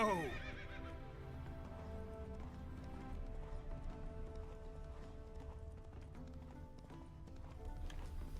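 Roach, a horse in The Witcher 3, neighs once at the start, then gallops with steady clip-clop hoofbeats. The sound is fairly faint, with no talking over it.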